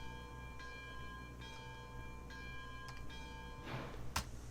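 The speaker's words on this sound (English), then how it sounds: "I wanted to hear what the bell sounds like." A locomotive bell in the train game Railroads Online rings at a steady, slow pace, each clang leaving a ringing tone. The sound is faint under a low engine rumble, and a brief louder knock comes near the end.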